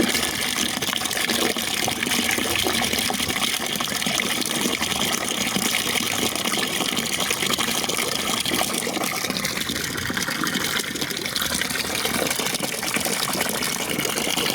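Tap water gushes steadily into a container, filling it to submerge an immersion heater rod; the flow sounds near and constant throughout, with no talk over it.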